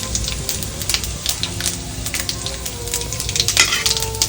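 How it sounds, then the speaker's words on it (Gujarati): Cumin seeds crackling in hot oil while cooking a dry potato dish, with rapid sharp pops and sizzling spitting close by, busy and continuous with bursts of louder snaps. "સૌથી પહેલા જીરું નાખીને એને તતડવા દઈએ"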